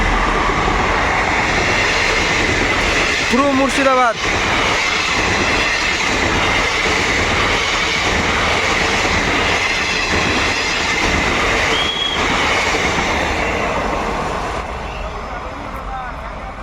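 The Hazarduari Express runs along the rails toward Murshidabad from the Jiaganj side with a loud, steady rumble and rattle and a brief wheel squeal, while someone talks over it.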